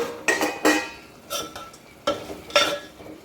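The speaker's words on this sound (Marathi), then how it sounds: "याच्यामध्येच आता आपण ही शेव टाकून घ्यायची आहे आणि छान अशी परतून घ्यायची" Sev is stirred into hot oil tempering in a pan, making about six short scraping and clinking strokes spaced irregularly over a quiet background, fairly close.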